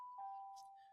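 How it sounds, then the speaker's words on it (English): A school bell rings between classes, a single faint sustained electronic tone held steadily with a few soft background noises. "there's the bell for in between classes"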